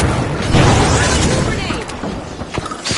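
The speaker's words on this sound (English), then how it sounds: "Grenade!" A grenade goes off in the video game The Finals, a loud, close boom that swells early and then breaks up into scattered debris crackles and smaller pops as the blast fades.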